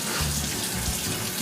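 A leaking faucet hose under a sink lets water run in a steady, close hiss of flow and spatter that continues without a break.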